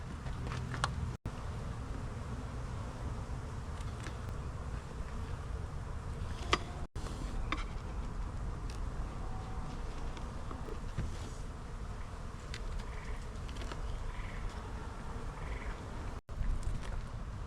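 A steady, dense hum of many honeybees buzzing close around an open hive, continuous and even throughout, with a few soft clicks and bumps.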